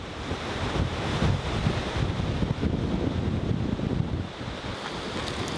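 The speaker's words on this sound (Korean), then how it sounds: "바람 많이 부네." Strong wind blows hard over the open sea where waves are breaking, a dense, roaring rush with a steady buffet against the microphone that carries on throughout.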